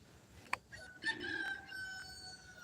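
A rooster crows faintly from a backyard chicken coop, heard at a distance over low outdoor background noise after a brief click.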